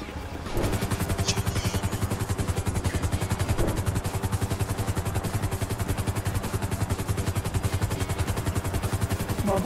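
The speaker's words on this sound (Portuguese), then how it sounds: "Vou ficar voando de helicóptero" A helicopter flies in the Call of Duty Warzone video game, a steady rapid rotor chop and engine drone filling the whole stretch, loud and continuous with a few faint clanks.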